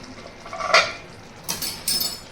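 A metal pot lid clinks down onto a cooking pot of Bengali doi potol after the gas flame is shut off, a clear clatter followed by two lighter metallic taps, close and without talk.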